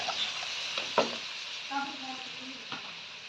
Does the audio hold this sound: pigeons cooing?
no